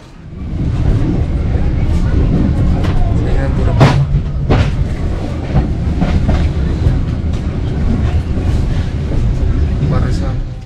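The KA Rajabasa passenger train runs on its rails, a loud, steady rumble with rattling carriages and sharp clacks and jolts, heard from inside the coach.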